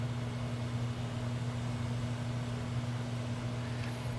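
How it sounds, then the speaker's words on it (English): A microwave oven running with potatoes cooking inside, a steady low electrical hum with a constant drone and faint background hiss, unchanging throughout. "when you hear the potatoes cooking, you're going to hear them like going in the microwave."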